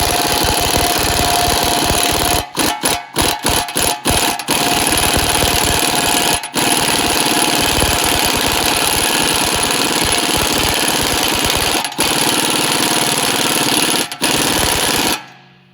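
A spinning press tool drives a wheel bearing out on a CV axle from a 2012 Nissan Maxima, giving a loud, continuous mechanical grinding whir that runs nearly nonstop with several brief cutouts before stopping at the end.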